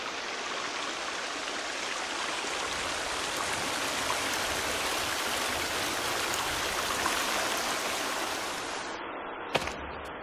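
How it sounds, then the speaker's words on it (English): Steady broadband rush of a river and waterfall in The Forest survival game, a continuous loud wash of flowing water that holds evenly for nearly ten seconds before thinning out, with a brief sharp click near the end. "Here, river, waterfall."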